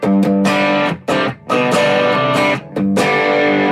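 Electric guitar runs through a Nobles overdrive and an EP booster pedal, playing loud, sustained chords and notes with a few brief gaps, close and dense with no talk over it.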